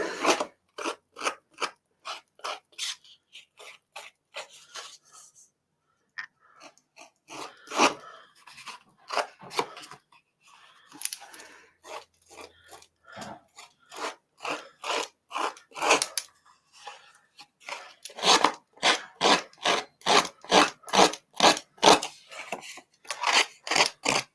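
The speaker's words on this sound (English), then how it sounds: "I'm just using the edge of my scissors just to scrape those edges there" Rapid rhythmic scraping strokes of a scissors edge along paper edges, dry and raspy, come in bursts with short pauses between them, close up and fairly loud.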